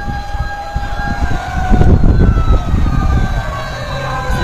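A fire truck siren wails over loud rumbling and strong wind at a fire in Parañaque City, steady and fairly close, rising in intensity midway through.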